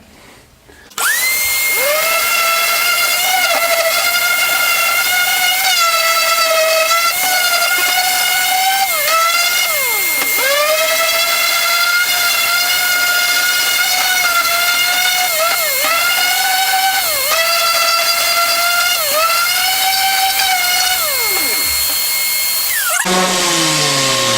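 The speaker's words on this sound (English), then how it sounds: "We're going to sand it." A power sander works over a pallet-wood clock face, giving a loud, steady high-pitched motor whine that dips in pitch whenever it is pressed or shifted, running continuously for over twenty seconds before switching off.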